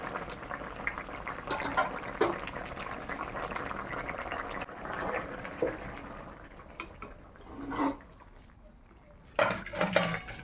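A pot of fish curry made with koi and folui fish simmers quietly, giving soft, steady bubbling, broken near the end by a few louder clattering bursts.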